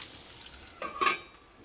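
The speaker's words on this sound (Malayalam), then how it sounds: "ഇപ്പോൾ അത് ഞാനിവിടെ മീൻ വറുക്കാൻ വേണ്ടിയിട്ട് ഇട്ടേക്കാണ്" Fish frying in coconut oil in a pan, a soft steady sizzle that swells briefly into a louder crackling burst near the middle before settling back to a low hiss.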